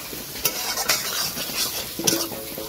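Broiler chicken meat is stirred and fried in a pan, with a soft sizzle under repeated scraping and clinking strokes of a utensil against the metal, close and fairly quiet.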